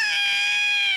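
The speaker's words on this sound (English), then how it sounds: "This wakes up a cat who was sleeping in a dustbin." A cat, woken while sleeping in a dustbin, gives a single drawn-out meow lasting about a second, close and clear, with nothing else heard.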